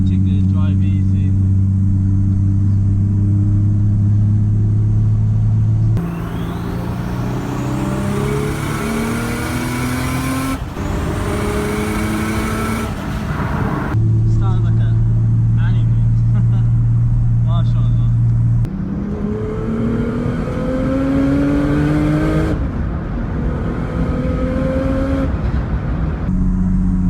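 A 700bhp Nissan Skyline R33 engine drones loudly from inside the car while driving, with repeated gear changes, rising revs and deep steady humming at a gentle pace, and a voice talking over it.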